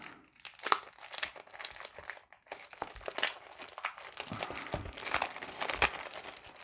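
Crinkling plastic packet holding a Dungeons & Dragons dice tray being peeled open up close, a run of crackling rustles and tearing bursts with a brief pause partway through, no voices.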